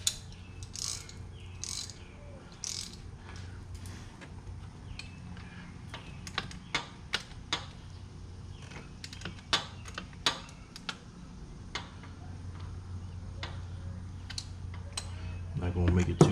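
A hand socket ratchet clicks in short bursts while a billet catch can is fitted to a Dodge Challenger Scat Pack Widebody, with quiet ticking and clinking of parts at close range and some talk in the background.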